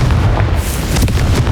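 A Confringo blasting spell explodes in the video game Hogwarts Legacy, giving a loud, sustained booming blast with crackling bursts that runs through the whole moment.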